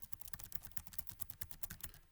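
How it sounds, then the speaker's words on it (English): Rapid, irregular keystrokes on an Eluktronics MAG-15 gaming laptop keyboard, a quick run of soft, close clicks and taps heard alone at low volume. "this is what it's like when you type on the keyboard"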